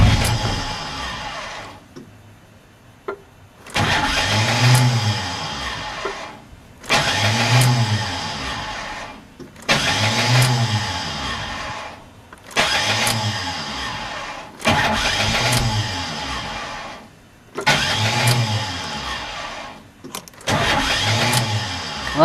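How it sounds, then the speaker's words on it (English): A car engine cranks on its starter in repeated long bursts, each few seconds of steady churning followed by a pause, about seven attempts without the engine catching. "turn the engine over enough to get it on an ignition cycle so it will start"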